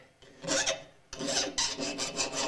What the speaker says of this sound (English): This is how you resharpen the tool after you've made it